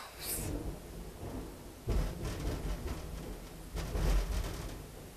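Thunder in a rainstorm, with several rolling rumbles that swell and fade over steady rain, fairly distant and moderate in level, no one speaking.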